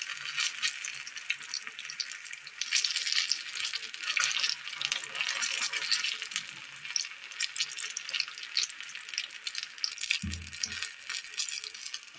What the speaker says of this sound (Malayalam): അതിനകത്തേക്ക് ഈ മുക്കിയെടുത്ത ചേന ഇട്ട് കൊടുക്കാം.